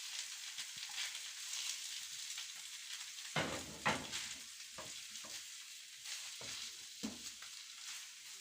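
Boiled potatoes fry with softened onion in hot oil, giving a steady close sizzle broken by several louder bursts of stirring and scraping.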